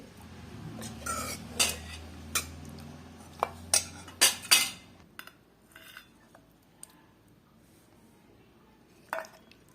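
A spoon scrapes and clinks against a pan while cooked mutton curry is gently stirred, giving a dozen or so sharp, close taps spread unevenly over a low background hum that fades halfway through.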